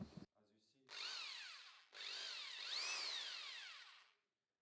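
A Bosch GBH 220 rotary hammer in drilling mode runs in two close, loud whirring bursts whose pitch sweeps up and down as the trigger is worked. A brief rattle comes before them and the sound winds down to silence.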